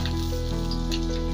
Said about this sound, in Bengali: প্রথমে আমি তেল দিয়ে পেঁয়াজটা ভেজে নেব।